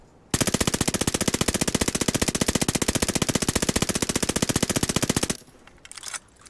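An Armaguerra submachine gun in a video game fires one long, loud, rapid automatic burst lasting about five seconds, each shot distinct and evenly spaced, then cuts off abruptly into near silence.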